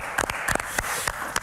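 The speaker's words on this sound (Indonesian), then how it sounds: "Wow, tepuk tangan sekali." Scattered audience applause on an Indonesian health talk show: a short burst of individual, sharp handclaps in an uneven rhythm, fairly close and clear.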